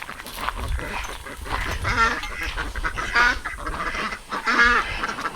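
Turkeys gobbling on a farm, a flock calling in repeated warbling bursts roughly every second over steady outdoor background noise, close and fairly loud.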